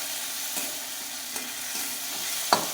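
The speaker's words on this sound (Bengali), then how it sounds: "মশলাটা দেখো কষানো হয়ে গেছে।" Masala for moong dal with pumpkin sizzles steadily in a pan while a spoon stirs and scrapes it, a faint continuous fry broken by a few soft clinks and a sharper scrape near the end.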